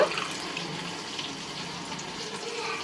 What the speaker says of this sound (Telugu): ఇప్పుడు నేను దీంట్లోకి కొంచెం వాటర్ అయితే వేసేస్తున్నానండి